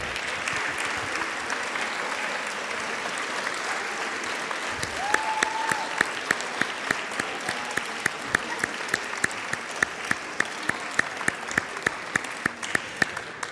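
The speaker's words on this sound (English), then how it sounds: "A huge round of applause." A school band spring concert audience applauds steadily in a large hall, dense clapping with scattered cheers and voices, rhythmic claps emerging near the end.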